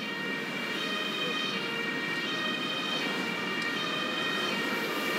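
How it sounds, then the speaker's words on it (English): In the Emergency 5 video game, an ambulance siren sounds steadily at moderate volume, a continuous high wailing tone over a busy background of game ambience. "The ambulance is taking the casualty to the hospital ward at the base."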